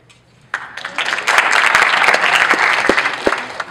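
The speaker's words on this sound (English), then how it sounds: "By a round of applause, how do you feel?" A lecture audience breaks into applause after a brief quiet start, the clapping swelling quickly into a full, close, steady wash with a few louder claps near the end.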